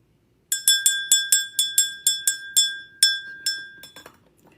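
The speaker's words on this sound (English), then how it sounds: "Let me ring my bell." A small bell, probably a spiritual cleansing bell, is struck about a dozen times in quick succession. Each bright, glassy strike rings briefly and decays before the next. The ringing is close and clear against a quiet room, then stops.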